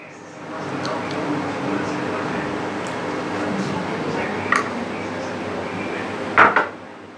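Chicken being stirred with garlic ginger paste in a cooking pot, giving soft scraping and squishing, a steady background hum and a few sharp metallic clinks near the end.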